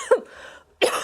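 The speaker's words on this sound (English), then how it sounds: "Yes, I have a cough." Two harsh coughs ring out close up from a sick person, one short burst, a breathy pause, then a second.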